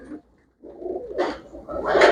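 A pigeon for sale coos in short, soft bursts close by, broken by a brief pause, with light handling noise around it.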